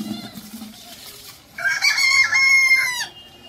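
A rooster crows once nearby, a loud, drawn-out call after a moment of quiet background.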